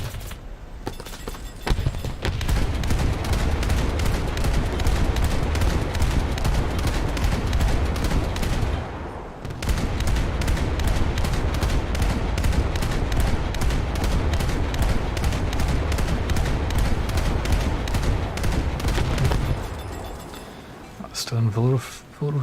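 Naval gunfire striking a player's ship in a coastal naval battle game: a long, rapid, evenly spaced barrage of shots, loud and sustained, with a brief break midway before firing resumes and then fades.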